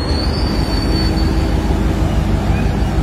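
A train rolls steadily past a level-crossing gate on the Tinsukia–Doomdooma rail line. Loud, close wheel rumble with occasional thin squeals fills the whole stretch, and no voices are heard.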